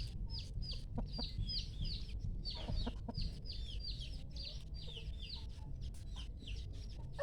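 Burmese gamecocks cluck repeatedly in quick, uneven bursts, moderately close, with faint rustling in the background.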